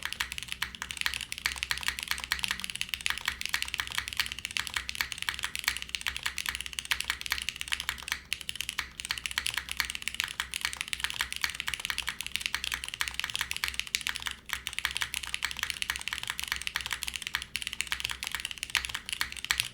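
Fast, steady clacky keystrokes on a Mode SixtyFive mechanical keyboard with Cherry switches and a PC plate, close and continuous, with occasional deeper thocks from the spacebar; no talking.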